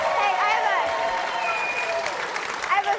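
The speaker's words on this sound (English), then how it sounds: "Let's give it a round of applause." Applause from a studio audience on a Saturday kids' television show, sustained clapping and crowd noise mixed with cheering voices and background music tones.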